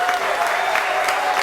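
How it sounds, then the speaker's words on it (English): Crowd noise played to pump up a player before a throw, a dense burst of applause and cheering, loud and continuous, with a voice faintly underneath. "A little crowd noise from the crowd to get her all pumped up for this."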